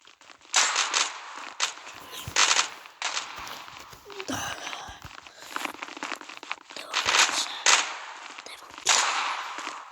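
Gunfire in the online shooter Zula: repeated sharp bursts of automatic and single shots over roughly ten seconds, loud and close, with footsteps and game noise between them.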